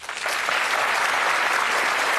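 Warm studio audience applause greets a Welsh darts player as he steps up to throw on a game show, a dense, even wash of clapping that rises quickly and holds steady.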